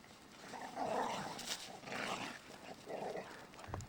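Dogs growling and grumbling in deep snow outdoors, a few rough low bursts at moderate distance, fairly faint, with no talk over them.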